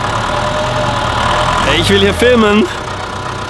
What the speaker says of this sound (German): Warum ist denn der Traktor nebenan so laut?